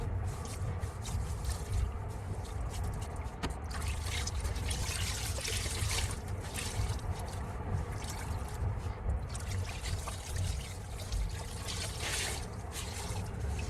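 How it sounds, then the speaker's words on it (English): Laundry wash water drains out and clear water runs back in, a steady close rush and trickle that goes on without a break and stays at an even level. "I already finished washing, so now I'm gonna just drain them and replace the water with clear water."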